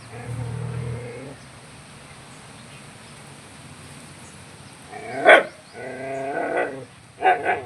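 A farm dog lets out a few sharp barks near the end, preceded by a low growl and a quiet stretch.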